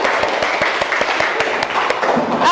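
Classroom applause after a clapping game, dense and loud, a steady wash of many hands with sharp individual claps poking through, continuous for the whole stretch, with some voices mixed in.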